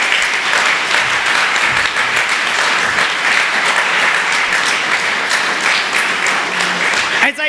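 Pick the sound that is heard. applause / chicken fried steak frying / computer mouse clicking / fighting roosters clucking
applause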